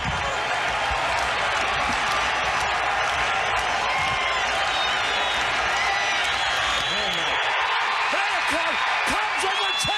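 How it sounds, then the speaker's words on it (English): A broadcast stadium crowd roars and cheers, a dense and steady wash of noise as the Cubs record the final out to win, with voices talking over it. "Listen to this crowd"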